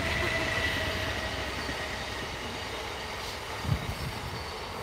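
A train rumbles past steadily at moderate distance, a continuous rolling roar with a faint high wheel squeal early on and a small clunk late.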